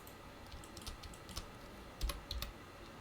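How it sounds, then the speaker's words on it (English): Keys pressed on a computer keyboard during 3D modelling work: a scattering of soft, quick clicks, with a couple of firmer taps near the end, close and quiet with no talking. "I'm just pressing I on my keyboard to"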